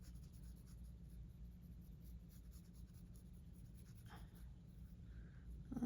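Graphite pencil shading on paper for a Zentangle drawing, a soft continuous scratchy rubbing that runs steadily and close up throughout, with no voices.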